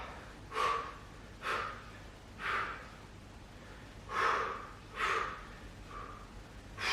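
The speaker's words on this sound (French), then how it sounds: "C'est je souffle et j'inspire pour contrôler le retour" Steady breathing during a dumbbell exercise at the gym: six or seven forceful, audible breaths spaced about a second apart, close to the microphone, with no talking.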